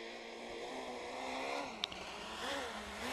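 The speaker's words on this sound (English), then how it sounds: "On board with Robert Konsani in the Peugeot 207" A Peugeot 207 rally car at Rally Liepāja, heard from inside the car: a steady, muffled engine drone with road and wind noise and a brief knock partway through.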